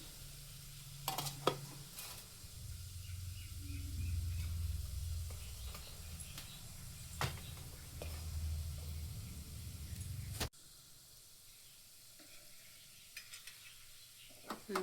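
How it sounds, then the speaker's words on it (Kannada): Cardamom and cloves sizzle in very hot oil, a low steady frying hiss with occasional clinks of a utensil, fairly faint and close; the sizzle drops away abruptly about two thirds through, leaving quieter background. "ಏಲಕ್ಕಿ, ಲವಂಗ ಇದ್ವಲ್ಲ ಅವನ್ನೆಲ್ಲ ಹಾಕ್ಬಿಡ್ತೀನಿ"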